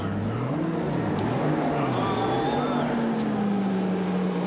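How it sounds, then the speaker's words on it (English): IndyCar race cars with Chevrolet engines roll out as the field pulls away, a steady droning engine note that rises and falls in pitch, with a faint higher whine joining midway. "You're looking over Bobby Rahal's shoulder as they step aside, and the field starts to roll out."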